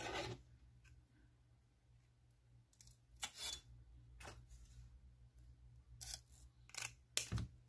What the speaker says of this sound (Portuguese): então eu tenho que cortar ele assim